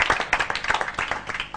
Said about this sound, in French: Applaudissements pour l'équipe Paradise.